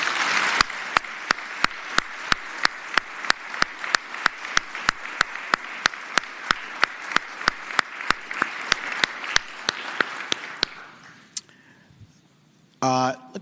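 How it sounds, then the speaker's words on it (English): Applause from a legislative chamber audience welcoming newly seated senators, steady clapping filling the room for about ten seconds, then fading to near silence before a brief sharp sound at the end. "Can we give them all a round of applause?"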